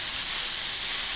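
Chopped vegetables for a quiche cook in a hot pan, giving a short, even, continuous sizzling hiss at moderate loudness, with no voices over it.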